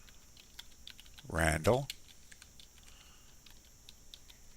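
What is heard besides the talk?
typing a name on a computer keyboard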